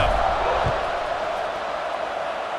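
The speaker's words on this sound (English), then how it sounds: "this crowd now ready to get behind them" A stadium crowd roars in a college football game, a broad sustained wash of cheering and whooping that holds steady and fades slightly, with a voice talking over it.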